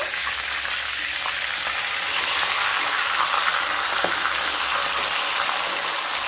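Oil keeps sizzling steadily around a fish head frying in a wok after being turned, a dense, even hiss with scattered small pops and crackles, close and continuous.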